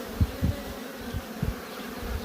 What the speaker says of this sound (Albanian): bleta po zbret vetë drejt e në koshere